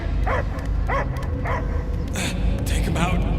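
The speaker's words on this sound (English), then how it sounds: "I hear only barking." A dog barks repeatedly in Marvel's Guardians of the Galaxy, a string of close, evenly spaced yelps and whimpering barks over continuous game music and ambience, with voices talking around them.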